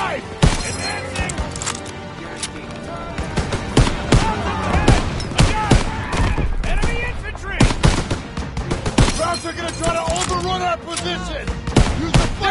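Dense gunfire in Call of Duty WWII combat, rapid bursts of rifle and machine-gun shots with heavy impacts and explosions, loud and continuous, with voices shouting over the battle.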